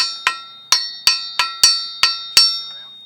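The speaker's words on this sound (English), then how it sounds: "Put the hub rotor on. He's going to require a little light tap" Light hammer taps seat a hub rotor on a Can-Am Maverick Sport XRC front wheel hub: seven sharp, ringing metallic strikes at an even, unhurried pace, close and clear with a bright clinking ring after each.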